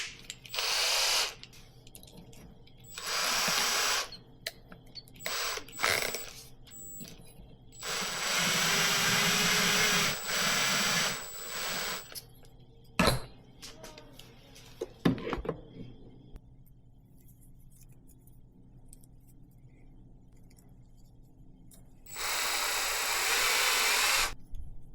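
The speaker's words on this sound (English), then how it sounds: "I'm going to cut off a piece, wrap it around, chuck it up in the drill." Power drill spinning 316 stainless steel wire to twist it into small eyelets for a wooden glide bait, running in several loud whirring bursts of a few seconds each, with clicks and handling noises in the gaps.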